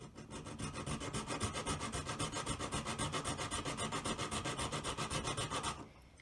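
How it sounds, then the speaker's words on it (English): A hand file cutting a square V into a metal collet: rapid, even rasping strokes in a steady rhythm, close but fairly quiet, ending abruptly. "it takes quite a lot of filing"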